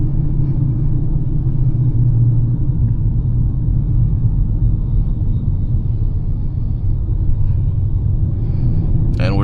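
Steady low road rumble of a car cruising along a highway, loud and continuous throughout, with a brief high chirp at the very end; no one speaks.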